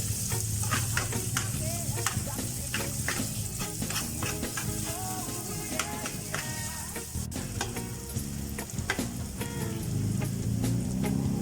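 Garlic sizzles and crackles in hot oil in a pan while cooking sisig, with a constant dense fry, frequent scraping stirs of a spoon, and a faint voice underneath at times.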